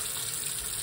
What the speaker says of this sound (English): apply some water to your hands